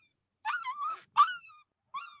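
A dog whimpering and yipping nearby, three short high-pitched whining cries separated by brief pauses, with no other sound around them.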